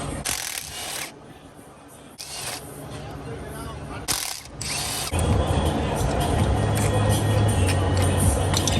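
A hand ratchet loosens the cam gear bolts on an LS3 engine, giving bursts of close, rapid clicking separated by pauses, then a steadier clatter of mechanical noise, with no clear talk over it.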